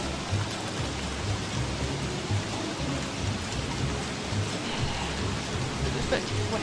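Steady rain falling in the video game Don't Starve, a dense even hiss with faint low rumbles, continuous and fairly close throughout.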